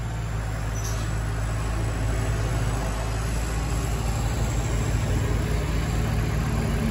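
A farm tractor engine runs steadily in a hay field, a constant low rumbling drone that stays loud and even throughout with no talk.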